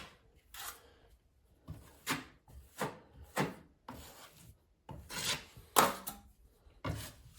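Setting-type joint compound is spread into a thin layer with a drywall knife, giving a series of close, rhythmic scraping swipes with short pauses between strokes.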